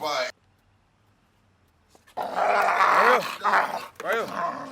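A dog growls and snarls in rough, loud bursts up close after a brief quiet stretch, with a voice mixed in around it.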